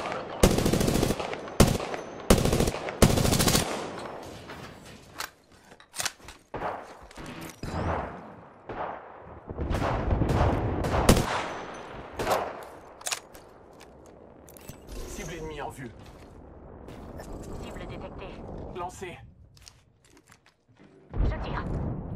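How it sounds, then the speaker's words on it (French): Bursts of gunfire in the battle royale game Apex Legends: rapid loud volleys early, then scattered shots and mechanical clatter, with a character voice speaking French over the action. "Je tire."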